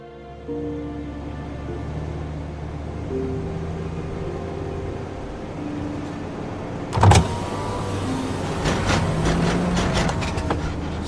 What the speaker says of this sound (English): This moving van has a lot of miles on it. Things rattle.